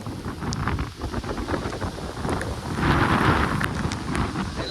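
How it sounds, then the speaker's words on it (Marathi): Wind and rain of the first Konkan monsoon sweep steadily past, a close broadband rush with gusts swelling toward the end, and no voices. "वारा पाऊस आहे."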